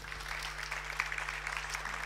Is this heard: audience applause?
yes